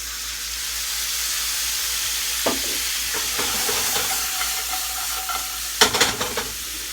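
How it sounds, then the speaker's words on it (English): White wine poured into a hot pan of shellfish to deglaze it, hissing and sizzling steadily, with a sharp burst near the start and another near the end, plus scraping and stirring in between. "what I like to do is I like to deglaze the pan with a little bit of white wine"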